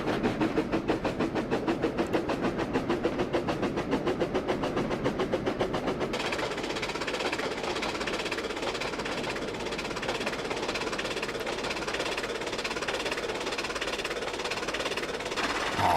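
Simulated train rolling along track in the Trainz railway game, a steady dense rumble with rapid rhythmic clicking for the first six seconds, then a smoother continuous drone.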